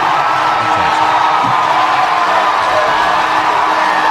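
Baseball crowd roaring after a walk-off home run, with a dense, sustained wash of cheering and whoops from a large stadium audience, steady and loud throughout.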